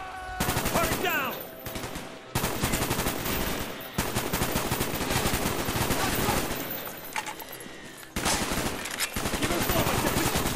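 Sustained automatic gunfire roars through a Call of Duty: Black Ops campaign firefight, dense rapid bursts of rifle and machine-gun fire filling nearly every moment, loud and close, with brief gaps and some radio chatter mixed in.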